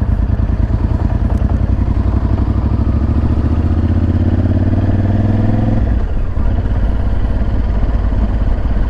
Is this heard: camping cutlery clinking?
no